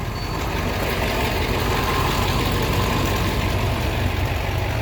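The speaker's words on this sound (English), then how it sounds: "let this thing idle and build air pressure" A heavy truck engine idles steadily while building air pressure, with a low rumbling drone and faint hissing, continuous and loud, no voices.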